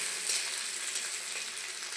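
Potatoes frying in a little fish oil, a dense, even sizzle up close with no pauses over two seconds.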